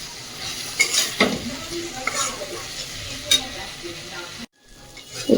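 Potatoes fry in hot oil with spice masala for a Bengali mochar ghonto, a steady sizzle under scraping and clinking as a utensil stirs them in the pan, close up, broken by a brief silent gap near the end.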